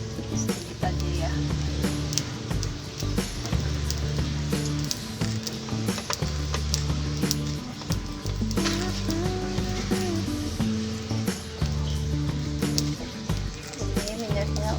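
Garlic sizzles in hot oil in a pan for stir-fried water spinach, a loud continuous frying crackle running throughout, with a voice talking over it.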